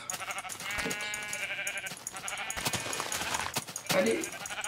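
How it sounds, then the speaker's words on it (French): A sheep bleats in the Minecraft video game, several short wavering bleats close by amid game sounds, with someone speaking French over them. "Un mouton."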